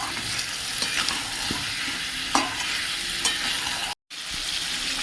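Spice paste stir-fries in a pan with drumstick pieces, giving a loud, continuous hiss of frying and a few crisp spatula scrapes. The sound cuts out briefly near the end, then resumes.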